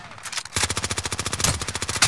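Rapid automatic gunfire in the Warzone video game, a steady rhythmic burst of roughly twenty close, loud shots over about two seconds, starting after a brief quieter moment.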